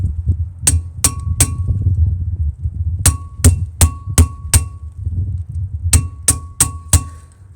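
Metal hammer striking the brake disc of a Renault Captur during a brake disc and pad replacement, giving three groups of sharp ringing clangs, three then five then four blows, with a sustained metallic tone, loud and close over low workshop rumble.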